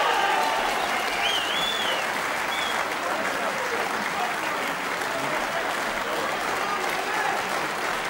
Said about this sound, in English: Well, the crowd are going absolutely crazy here at the Crucible Theatre.